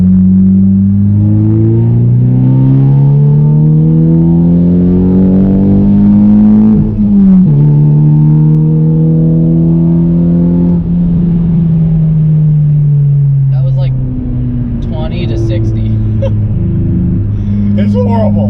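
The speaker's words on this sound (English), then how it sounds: "We can do a little second gear pull with Bonnie, right?" A project car nicknamed Bonnie pulls hard in second gear, its engine note climbing steadily and loud from inside the cabin, dipping briefly at a shift before droning on and easing off near the end.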